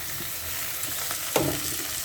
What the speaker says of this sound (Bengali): পেঁয়াজ ভাজা হয়ে গেছে, এবার আমি এতে টমেটো কুচি দিয়ে দেবো।